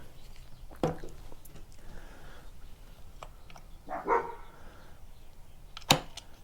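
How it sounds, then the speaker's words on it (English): Neighbor's dogs bark a few separate times outdoors, at a moderate distance: a single bark, a louder, fuller one a few seconds later, then a sharp final bark, with quiet yard ambience between them. "my neighbor's dogs don't bark until I'm outside"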